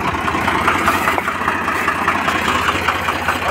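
A Swaraj 735FE tractor engine runs close by at a steady, loud, rough chugging idle with a low knocking throb, alone with no talk.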